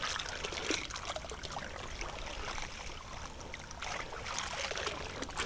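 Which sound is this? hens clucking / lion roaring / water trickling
water trickling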